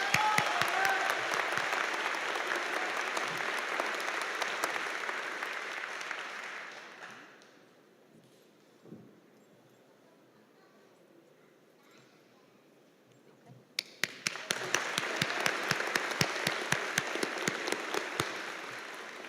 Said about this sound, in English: Earning salutatorian honors, please give a round of applause to Zachary Card.